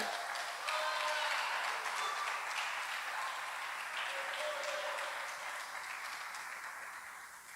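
A crowd applauds steadily, a dense wash of clapping that swells early and slowly fades, with faint voices mixed in.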